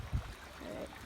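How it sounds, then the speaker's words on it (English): Water flows steadily through a large creek, a faint, even rushing wash heard up close and alone, with a short low thump near the start. "So this is a huge like creek."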